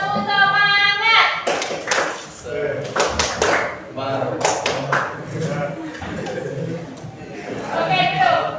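A group of students claps in a quick rhythmic pattern in a classroom while voices talk over it.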